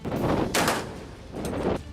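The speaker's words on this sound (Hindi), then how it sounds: "अभ्यास के दौरान जंगी जहाज में लगी तोप से गोले दागे गए और मशीन गन से भी फायरिंग की गई।" Warship deck cannon and machine gun fire during a Chinese naval exercise at sea, heard as loud bursts of rapid gunfire separated by short lulls, with sharp blasts standing out among the rattling volleys.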